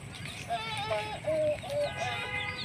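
Small chicken clucking in a few soft, short bursts amid steady outdoor background noise, somewhat distant.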